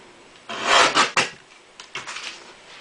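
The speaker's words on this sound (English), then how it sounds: "I like to use a guillotine when cutting, trim that up, or off should I say" A paper guillotine trims card for a handmade calendar, making a few close scraping, rasping strokes of the blade, one long and two short, followed by fainter rustles.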